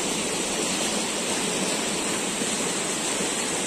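The largest waterfall in the upper reaches of the Uch-Kosh mountain gorge roars steadily, a loud, dense, unbroken rush of falling water heard close by, with no voices.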